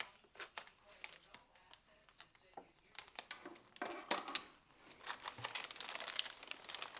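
An airtight plastic bag holding a fluffy 3D cloud LED lamp crinkles and rustles as it is opened, in quiet, close, irregular bursts of crackling that grow busier toward the end.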